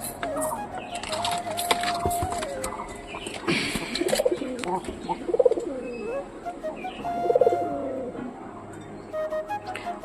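Soft pigeon coos repeat a few times over several seconds, mid-distance, amid a busy background of rustling and faint voices.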